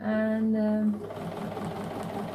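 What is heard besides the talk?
sewing machine quilting a cover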